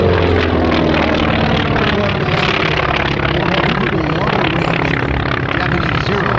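An F4F Wildcat propeller fighter roars past at the Capital Airshow 2025, a loud, sustained piston-engine drone with propeller buzz filling the whole stretch, with a voice faintly under it.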